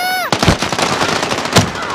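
Rapid bursts of video game gunfire crackle loudly, with a sharp tonal sweep at the start and another heavy burst near the end.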